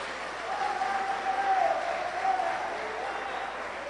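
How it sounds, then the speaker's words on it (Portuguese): Church congregation clapping together during a worship service, a steady, moderately loud wash of applause filling the room, with a faint sustained tone running underneath in the middle of the clip. "Aplauda ao Senhor"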